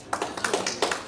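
A few sharp claps from a small audience at a curriculum launch event, spaced unevenly over about a second, close and moderately loud with no talking.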